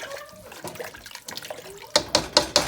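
Water pours into a cooking pot for hamburger soup in a home kitchen, a short splashing run with a few louder bursts near the end, close by and without talk.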